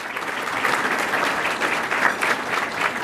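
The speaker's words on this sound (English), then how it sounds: "Give her a round of applause." An audience applauds steadily for a police board president at a Chicago police event, a dense sustained wash of many hands clapping, moderately loud and even throughout.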